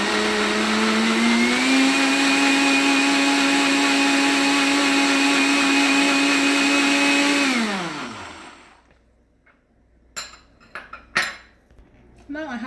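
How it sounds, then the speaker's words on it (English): A blender whirs steadily as it purees Scotch bonnet pepper and crayfish with water, climbing in pitch, holding loud for several seconds, then winding down, followed by a few light clinks of the jar and utensils. "I'm going to turn my Scotch bonnet pepper in, and I'm going to blend it together."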